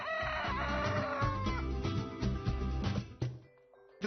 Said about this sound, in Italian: potremmo partire col canto del gallo